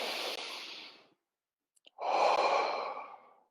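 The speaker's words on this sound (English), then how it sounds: "First deep breath." A deep breath in, then after a short silence a long, audible exhale, both close and breathy.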